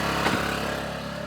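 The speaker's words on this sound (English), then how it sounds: "so you'll hear the generator buzzing away." A generator, set up to power soldering work, drones with a steady low electrical buzz and constant hum, close and unchanging throughout.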